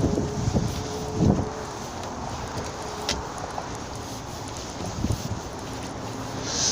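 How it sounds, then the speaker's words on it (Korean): Strong outdoor wind roars steadily on a cold, blustery day near Seoul Forest during a spring forsythia festival, with buffeting gusts striking the microphone and faint distant traffic. "오늘 날씨가 바람이 많이 불어 춥네요"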